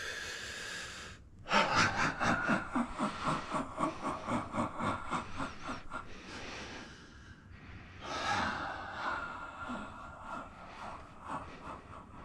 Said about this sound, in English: So big breath.